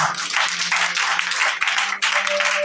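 A church congregation at a Sunday worship service claps together in a dense, lively burst of applause that keeps a steady pulse, with a faint held tone sounding underneath.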